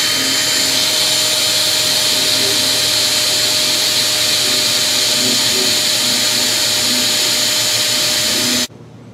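A power drill with a dull bit bores into a scrap of 2x4 wood, a loud continuous whining motor drone that runs steadily and stops abruptly near the end.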